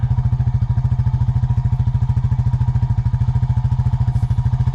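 Four-wheeler ATV engine idling steadily close by on a farm, a loud, even, rapid thumping pulse that holds constant throughout with no talking.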